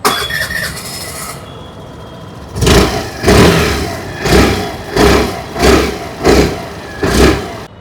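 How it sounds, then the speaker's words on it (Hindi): An older-model Suzuki Burgman 125 scooter engine revs in a steady rhythm of about six throttle blips, each rising and falling, after a quieter idle at the start. "अभी सुन लेते हैं ओल्ड बार्गमैन की एग्जॉस्ट नोट।"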